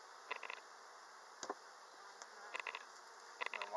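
Bees hum softly at an opened beehive with burr comb, a faint steady buzz, with short buzzing bursts as individual insects pass near.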